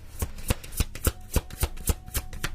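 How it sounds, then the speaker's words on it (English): A deck of cards being shuffled in a riffle rhythm, roughly a dozen crisp, evenly spaced bursts close up, with no talking. "Just let me give this a little bit of a shuffle."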